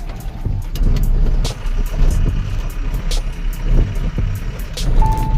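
A heavy truck loaded with pipes cruises on a highway at night, its engine and road rumble steady and close throughout, with a brief warning beep near the end.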